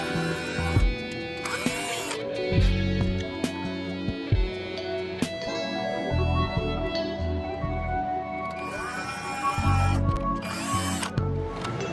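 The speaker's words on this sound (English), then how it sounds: "we'll drill the retaining holes now for the retaining screws." A drill whirs in short bursts into a wooden guitar neck, boring screw holes, its motor pitch rising and dropping as it bites in, with ratcheting clicks between runs and no talking.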